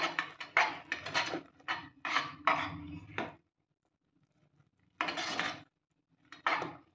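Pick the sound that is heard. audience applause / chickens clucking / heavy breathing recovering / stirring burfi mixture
stirring burfi mixture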